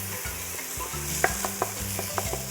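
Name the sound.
marinated goat frying and stirred in curry powder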